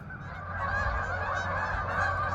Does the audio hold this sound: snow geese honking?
yes